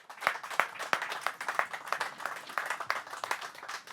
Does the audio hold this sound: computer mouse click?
no